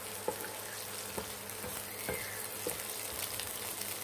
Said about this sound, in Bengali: এখন এগুলো বেশ ভালো করে নেড়েচেড়ে একটু ভাজতে হবে কিছুক্ষণ